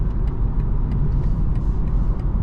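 Inside a 2023 BMW 230i cruising on the highway in comfort mode, the engine and transmission hum as revs drop through an upshift, a steady low rumble with road noise and no talking.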